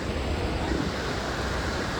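A continuous, broad roar of rushing floodwater from a swollen river fills the clip, steady and loud with no pauses.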